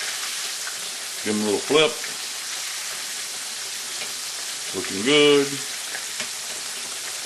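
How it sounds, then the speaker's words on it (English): Pork chops frying in hot oil in a pan give a steady crackling sizzle throughout, with someone talking briefly over it twice. "Cooking nicely. I love me a fried pork chop."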